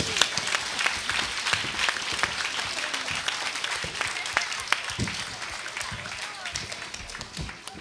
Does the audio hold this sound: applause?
yes